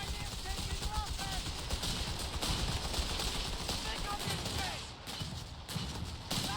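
In the Company of Heroes 3 strategy game, machine guns and rifles fire in sustained rattling bursts against a busy battle din, with a voice talking over the gunfire.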